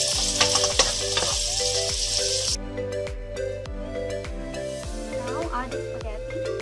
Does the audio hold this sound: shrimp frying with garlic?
yes